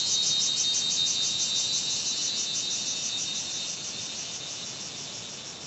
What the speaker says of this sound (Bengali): এই ঝিঝির ডাক নিয়ে হেঁটে চলা কি লোভনীয়,